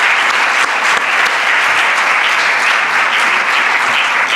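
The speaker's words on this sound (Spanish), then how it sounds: "os pido un aplauso para la directora general" A crowd in a hall applauds a director general, dense sustained clapping at steady loudness throughout with no talk over it.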